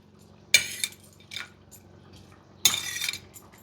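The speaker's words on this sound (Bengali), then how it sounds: "এবার মাছগুলো দেওয়া হচ্ছে।" Pieces of rohu fish go into a pot of simmering Bengali curry with two bright clattering splashes, metal clinks and soft drips between, quiet and close.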